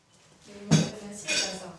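Cutlery and dishes are set out on a table at home before a meal, giving a few close clinks and clatters with a sharper burst near the middle and another soon after, and no talk.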